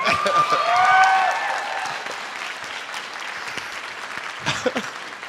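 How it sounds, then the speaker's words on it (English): Steady applause from a convention panel crowd at SacAnime Summer 2018, loud and dense at first, then thinning into scattered claps with a few voices underneath. "Can we give him another round of applause for that, guys?"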